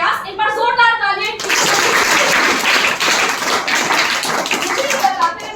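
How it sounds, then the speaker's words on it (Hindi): After a brief spoken line, an audience at an anti-drug poster competition bursts into loud, steady applause for the winners, a thick wash of many hands clapping that holds to the end. "एक बार जोरदार तालियां"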